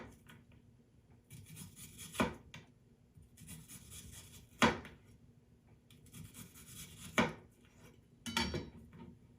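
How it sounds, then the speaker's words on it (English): Onions being sliced for a garnish with a knife, four separate rasping strokes ending in sharp taps on the cutting board, spaced a couple of seconds apart, quiet and close. "Let's go ahead and slice up some of the onions for the garnish"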